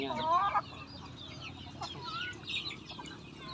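Backyard chickens, three hens with their chicks, cluck and chirp nearby in short, quiet bursts over a faint outdoor background.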